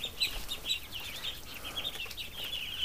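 Young ducks and geese in a barn peep and chirp constantly, a dense high-pitched chatter of many small birds at moderate distance.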